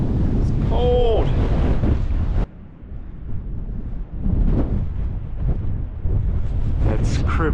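Strong, cold wind roars over a Snowdonia mountain peak in winter, with heavy buffeting on the microphone throughout, easing slightly midway before gusting back up; a person speaks briefly near the start.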